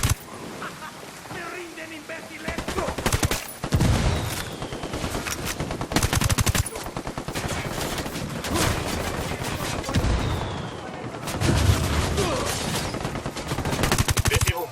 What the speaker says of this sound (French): On est en train de se faire sniper.